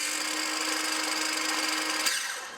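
A Makita DHS680 18V brushless circular saw spins its blade at no-load speed with a steady high whine, then winds down and fades near the end.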